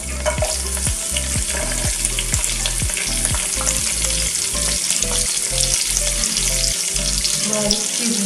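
Chopped onion frying in hot oil in a pan alongside curry leaves, a steady loud sizzle broken by repeated scraping strokes of a spoon stirring, close up with no talking.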